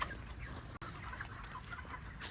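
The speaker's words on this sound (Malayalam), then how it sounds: "ഇതാണ് നമ്മളെ കോഴി ഫാം" Chickens on a poultry farm cluck and murmur together, a steady, moderately distant flock chatter with no talk.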